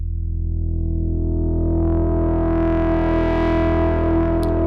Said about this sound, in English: If we bring oscillator 2 to the midpoint between the sawtooth and square